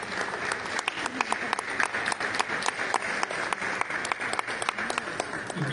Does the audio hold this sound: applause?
yes